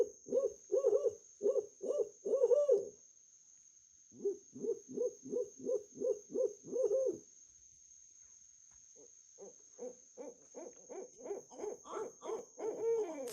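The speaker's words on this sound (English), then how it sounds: "The barred owl." Deep rhythmic hoots from a barred owl come in three long bursts, over a steady high drone of crickets.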